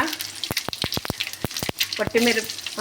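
Mustard seeds, asafoetida and cumin sizzle and pop in hot oil for a tempering. Sharp crackles and seed pops land in quick bursts over a steady fry, close and fairly loud.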